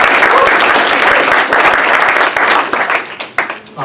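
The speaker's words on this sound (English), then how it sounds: "So, round of applause." Audience applause fills a hall at a social justice authors' reading event, dense and loud clapping throughout that begins thinning into scattered claps near the end.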